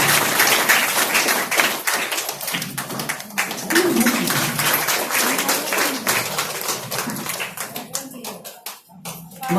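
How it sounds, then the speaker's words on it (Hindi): A crowd claps to welcome a guest at an office opening in Nawada, a steady burst of hand claps running throughout beneath loud speech and chatter. "आप लोग तालियों से स्वागत करते हैं।"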